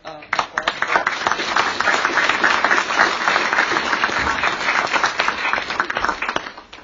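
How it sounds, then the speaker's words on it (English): An audience at a public meeting in Vinton, Iowa gives the panel a full round of applause after an evening discussion, dense continuous clapping that holds steady for several seconds and tapers near the end. "please join me in a round of applause"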